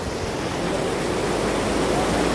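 Floodwater of the Banas River in Rajasthan rushes past in a steady, dense broadband roar, loud and unbroken throughout.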